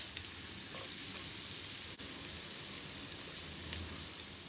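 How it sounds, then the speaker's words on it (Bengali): Fish sizzles steadily in hot oil, a dense, continuous crackle at close range with no voices. "মাছটা হালকা ভাজা দিচ্ছি।"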